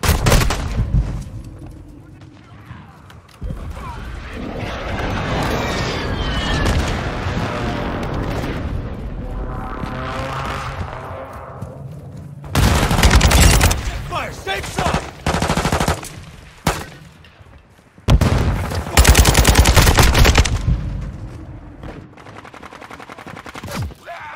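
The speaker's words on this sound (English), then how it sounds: "Enemy precision airstrike." An enemy precision airstrike and gunfire in Call of Duty Modern Warfare 2 break out as loud bursts of rapid shots and heavy booms, mixed with spoken in-game voice callouts.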